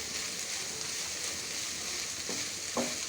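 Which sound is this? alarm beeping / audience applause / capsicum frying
capsicum frying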